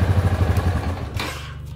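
A Yamaha Ténéré 660 motorcycle engine idles close by with a steady low throb, then is switched off and the pulsing dies away, leaving a quiet low hum.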